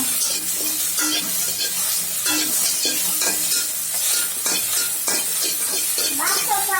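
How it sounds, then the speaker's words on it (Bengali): Onion, garlic and coriander leaves fry in hot oil while being stirred, with a steady loud sizzle and repeated scraping strokes of a spoon in the pan, close by and with no talk. "পেঁয়াজ, রসুন, ধনিয়া পাতাগুলো একটু তেলে দিব।"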